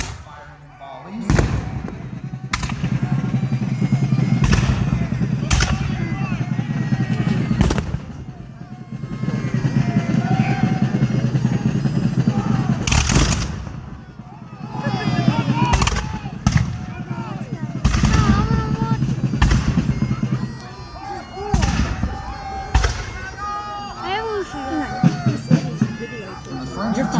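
Musket volleys fire during a Fort Ligonier battle reenactment, a series of sharp loud cracks spaced irregularly across the scene, with crowd chatter and narration running underneath.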